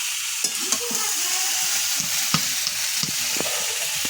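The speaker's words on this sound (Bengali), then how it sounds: "ভালো করে একটু নেড়ে চেড়ে হালকা করে ভেজে নেব, বেশিক্ষণ ভাজার দরকার নেই" Raw seeded banana and fish being lightly fried and stirred in a pan, a steady bright sizzle broken by several close scraping clacks of a spatula, with no voices.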